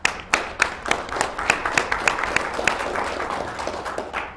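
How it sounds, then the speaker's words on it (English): A town hall audience claps in a yes vote, with sharp scattered hand claps at first that thicken into steady moderate applause throughout. "Those who believe yes, please applaud."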